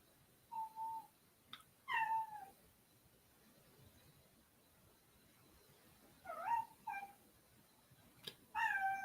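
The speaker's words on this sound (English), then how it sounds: "Oh, and here's the cat." A cat gives several short, faint, high mews in scattered groups of two or three, separated by quiet pauses, in a quiet room with no talking.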